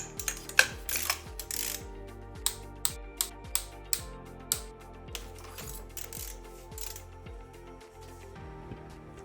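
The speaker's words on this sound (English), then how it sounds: "Now I'm gonna use the torque wrench set to 25 Newton meters." A torque wrench set to 25 newton metres ratchets as it tightens spark plugs on a BMW E46 M3, giving a steady series of close, sharp metallic clicks at roughly even intervals over a faint background hum.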